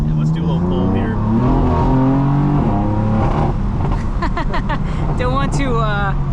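A 2015 BMW M4 with a manual gearbox pulls hard from inside the cabin, its engine note rising loud and steady through the gears while a driver talks over it.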